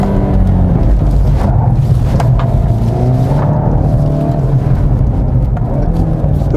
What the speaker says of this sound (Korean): 다음 차량 출발. 급가속 확실히 조금 늦긴 하네요.